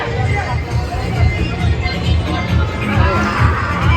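Loud, close babble of many voices at a crowded Sankranti kite-flying gathering on a rooftop, an unbroken mass of overlapping chatter with wind noise and no single clear speaker.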